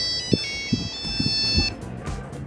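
A Nokia 3310 rings with a bright, steady melodic tone for about a second and a half after being dropped from great height, with a few low knocks and handling thumps underneath.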